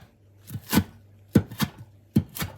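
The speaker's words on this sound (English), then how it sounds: "the way I do this is I really dice these finely" Sharp knife strokes finely dice salad ingredients for a salmon citrus salad on a cutting board, coming in three spaced bursts of quick, close chopping taps.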